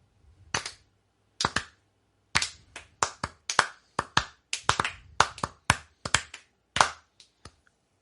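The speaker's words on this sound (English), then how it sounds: "This needs a slow clap." A slow clap of separate, spaced hand claps, about fifteen sharp cracks that gradually speed up a little over eight seconds, fairly close, with no talking.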